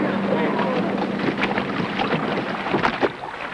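Canoes race at the 1978 World Championships, with paddle strokes splashing over a wash of water and wind, and voices faintly mixed in.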